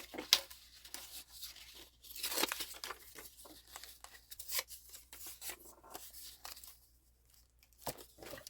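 Old paper is torn for a journal, close and quiet, with a series of irregular ripping strokes and a few papery crinkles between them, no talking.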